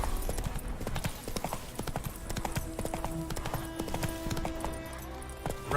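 Horse hooves galloping in The Witcher 3: Wild Hunt, a steady rapid clip-clop rhythm up close, running continuously with faint game ambience underneath.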